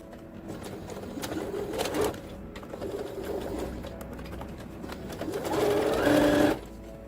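A sewing machine stitches an elastic bedsheet in short whirring bursts, ending with a louder, sustained run of stitching close by, with no talk.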